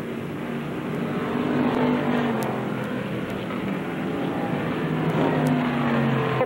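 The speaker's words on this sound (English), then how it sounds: "And a car slowing up between turn 3 and 4." Pure stock race cars lapping a speedway under yellow caution with liquids on the track, a continuous engine drone with rising and falling pitch as cars pass, fairly loud and steady.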